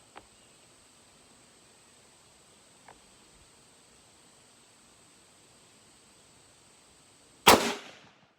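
A single sharp rifle shot from a 1940 Gustloff Werke Kar98 Mauser fires near the end of a quiet outdoor stretch of faint background hiss, loud and close, with a short decaying tail.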